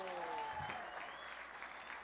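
Applause from a radio music festival audience, steady clapping throughout with some speech-like tones near the start.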